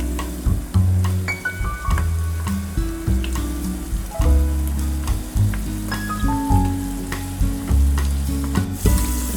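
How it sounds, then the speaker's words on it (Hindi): Peeled tomatoes mashed into chicken karahi in a hot wok, with loud continuous sizzling and frying under repeated scraping and knocking of a spoon against the pan. "फिर इन टमाटरों को इस तरह मैश करना है इसके अंदर।"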